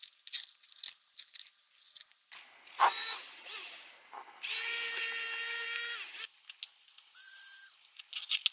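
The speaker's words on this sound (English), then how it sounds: "once you remove these screws, the motors are just going to be on these plugs here" Screws being removed from the motors of a toothpick micro drone with a small powered driver, short whirring bursts separated by quiet gaps and faint clicks, close and fairly soft.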